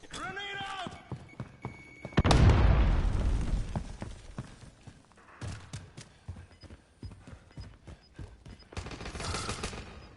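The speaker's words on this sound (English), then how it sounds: "Grenade out!" A grenade explosion erupts with a loud, sudden boom, followed by scattered gunfire bursts in Modern Warfare alpha multiplayer gameplay, with voices calling out between the shots.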